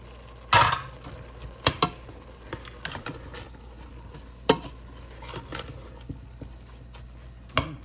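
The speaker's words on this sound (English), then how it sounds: "let it sort of saute a little bit" Potatoes and vegetables in a soup pot being stirred as they saute, giving scattered scraping and clattering knocks over a faint sizzle, with no voices.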